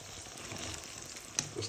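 Wine boils in a pan with garlic chicken, giving a faint, steady crackling sizzle with a few brief pops and no talking.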